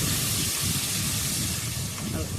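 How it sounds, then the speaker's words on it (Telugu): Chopped onions fry in a hot pan for a fish curry, giving a steady, dense hiss and sizzle that holds evenly throughout at close range. "ఇప్పుడు ఉల్లిపాయ వేపేసుకుందాం"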